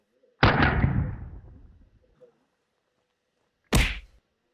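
Scorpion submachine gun shots striking a Cybertruck body: one loud, near, booming impact that rings and decays over about a second and a half, followed after a pause by a second short sharp crack, with no talk.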